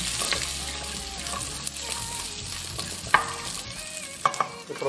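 Whole shallots frying in a pan with beef for a Kerala beef ularthiyathu, a dense close sizzle with occasional scraping stirs and clinks of a spoon against the pan.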